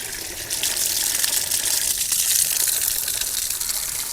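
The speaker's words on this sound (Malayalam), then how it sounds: "ഫിൽറ്റർ ചെയ്ത് വന്നുകൊണ്ടിരിക്കുന്ന വെള്ളം ഉണ്ട് ഈ കാണുന്നു" Filtered water pours out of a water filtration system after backwash, a loud continuous hissing gush that holds steady for several seconds, close by with no voices.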